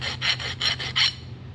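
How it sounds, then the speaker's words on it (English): A hand file rasps across a machined 6061 aluminum door pull in about five quick, even strokes, close and crisp, then fades to a low hum. "I'm going to hit it with my trusty file"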